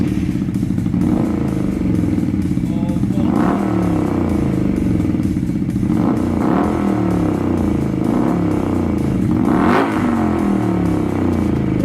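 A motorcycle fitted with a Black Widow exhaust being revved: a loud, close, continuous engine roar that rises in repeated throttle blips over about twelve seconds, with no talking.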